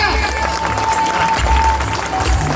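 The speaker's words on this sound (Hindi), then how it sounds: "एक बार जोरदार तालियां" Loud, steady applause from a crowd at a school and college inauguration ceremony in Raigarh, India, fills the whole stretch, dense clapping with a continuous hum underneath.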